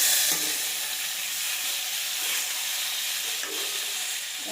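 Onions, tomatoes and curry leaves sautéing in a pan for sambar, a loud steady hissing sizzle with faint occasional stirring, no voices.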